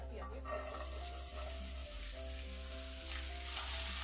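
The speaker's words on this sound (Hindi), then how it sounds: "पैन में हम डालेंगे 1 टेबल स्पून ऑयल और इसमें हम डाल देंगे ये कटे हुए प्याज।" Chopped onions hit a tablespoon of hot oil in a pan, giving a continuous, even sizzle close up, with a soft rise in intensity near the end.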